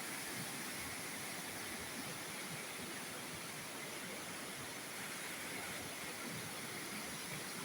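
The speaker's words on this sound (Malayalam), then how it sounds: "ഒരയ്ക്കംപാറ വെള്ളച്ചാട്ടമായി കാണിക്കുന്നത് കേട്ടോ" Orakkampara waterfall in Kottangal pours in a steady, even roar of rushing water, faint and distant, with no breaks or other sounds.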